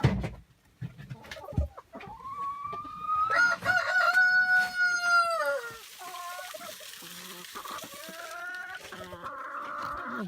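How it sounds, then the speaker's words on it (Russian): Mini chickens of the P11 breed in a poultry yard, a rooster crowing loudly and nearby among clucking hens, with a few brief background noises. "Это курица мини-куры P11."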